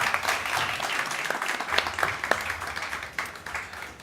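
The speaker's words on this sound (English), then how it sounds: "Please, a big applause." An audience at a panel discussion applauds steadily, a moderately loud crowd of clapping hands with a few sharper individual claps standing out, continuing evenly for several seconds.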